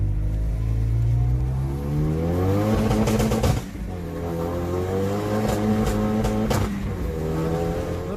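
A car with a turbocharged 2.0 F4R engine revs hard and accelerates through several gear changes, pitch climbing and dropping, loud and close with no talking.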